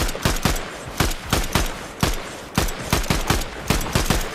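Rapid bursts of video game gunfire crack out nearly nonstop, each shot a sharp broadband snap in quick irregular volleys, loud and close with no talking over them.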